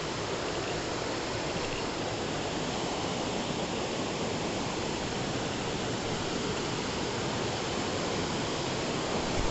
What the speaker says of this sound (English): So a little waterfall coming in.